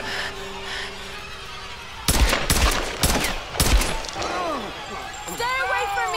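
Gunfire in Tomb Raider (2013): a burst of loud, sharp shots in rapid succession around the middle, with game sounds and a voice before and after.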